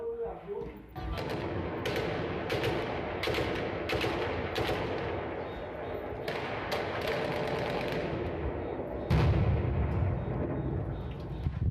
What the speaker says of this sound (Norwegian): Er det noen som skyter noe jævlig her ute?